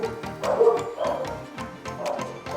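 Several dogs bark and yip in a quick, uneven run of close barks, with a few whimpery yelps mixed in and no talking.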